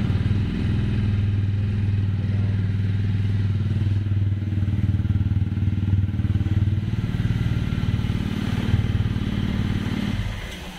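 A TVS Ronin motorcycle engine runs close by at a steady thumping idle for several seconds, then fades off at the end, with no talking.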